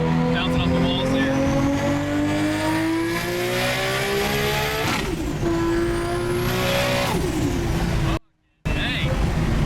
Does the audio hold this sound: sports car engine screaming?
yes